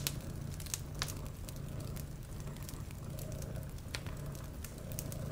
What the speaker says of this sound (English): Aside from the crackling of the open fire